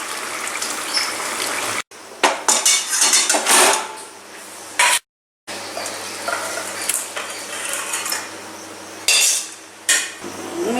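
Pot and metal utensils clink and scrape in a home kitchen while prawn mitha roast is dished up for serving, with repeated close clatters, a brief pause, then more scraping and knocking.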